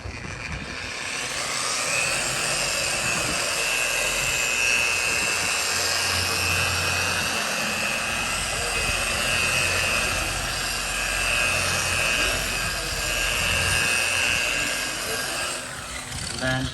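A polishing machine buffs wax onto an RV body, giving a steady, continuous whirring drone with a broad rough hiss that holds throughout and eases near the end.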